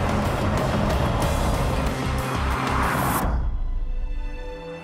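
A Bugatti Veyron engine roars loudly at high revs, then cuts off abruptly and fades into a low, ringing rumble.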